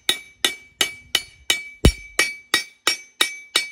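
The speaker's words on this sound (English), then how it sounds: "if I push the tongs against the anvil and hammer there, it's a lot better than doing it this way" Hammer strikes on tongs held against a farrier's anvil while shoeing a horse, ringing metallic clinks in a steady rhythm of about eleven blows, close and sharp, each decaying quickly with no talk.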